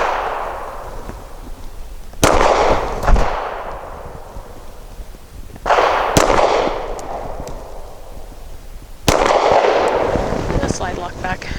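A Walther Q4 SF pistol fires hollow point rounds at a target: three loud, sharp shots spaced a few seconds apart, each trailing a bright ringing decay, with fainter clanks and pops between them.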